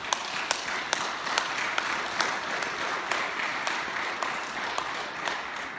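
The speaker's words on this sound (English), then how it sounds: "Let's just give these guys a round of applause." Church audience clapping in a moderate, even round of applause, with a few sharper individual claps standing out and no talk over it.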